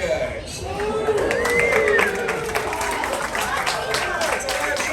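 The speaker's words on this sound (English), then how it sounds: "Give them a clap." Crowd clapping at a live alligator rescue show in the Everglades, outdoors, with a voice talking loudly over the applause.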